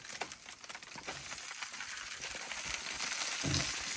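Baby back ribs sizzling on a barbecue grill as they are flipped, a continuous crackling fry with scattered pops and taps, growing slightly louder toward the end, no talk.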